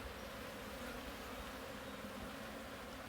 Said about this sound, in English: I'm giving the bees a chance to get out of the hive.